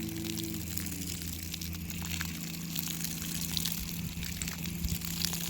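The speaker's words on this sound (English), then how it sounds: "We're going to try to wet the ground around it." Water gushes steadily onto the ground around a yard hydrant being installed at a home, a continuous splashing wash at close range with no talk over it.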